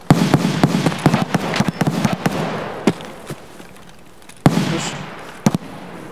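Gunfire in Escape From Tarkov on the Woods map: sharp, loud cracks, some in quick clusters and others spaced apart, with two especially strong shots near the end over a quiet outdoor background.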